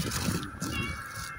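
A cat meows at a seafood market, a faint drawn-out cry that sounds over busy market background noise and nearby activity.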